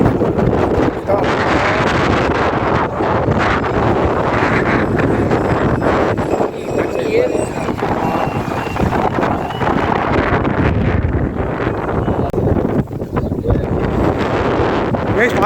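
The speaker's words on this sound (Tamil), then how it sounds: "பார்த்தீங்கன்னா புயல் காற்று அடிக்குது." Strong storm wind roars over the coast near Dhanushkodai, buffeting the microphone in loud, continuous gusts throughout.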